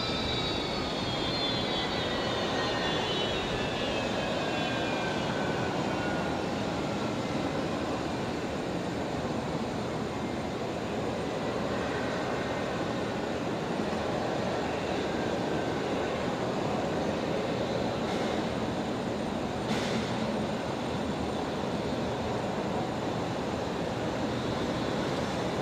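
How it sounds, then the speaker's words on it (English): A jet airliner landing at Brisbane Airport at night and using idle reverse thrust, a sustained broad roar with a falling engine whine early on, continuous and fairly distant. "More idle reverse thrust."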